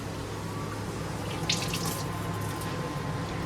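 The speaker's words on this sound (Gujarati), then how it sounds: "પાણી આટલું નાખવું" Water for making tea runs in a steady, close stream into a pot, with a brief splashier swell partway through and no talking.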